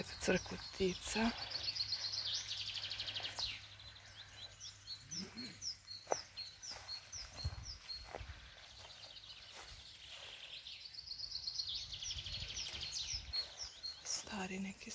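Small birds chirp and tweet in scattered bursts outdoors in countryside near Mogorjelo, Čapljina, mixed with a voice speaking over a steady background.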